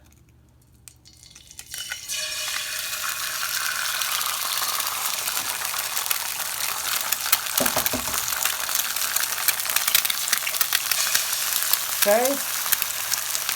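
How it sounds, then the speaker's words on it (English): An egg drops into a hot pan and starts frying, the sizzle rising sharply after a quiet start and holding as a loud, steady crackle, with a few utensil knocks and a brief spoken word. "we're going to put our egg in."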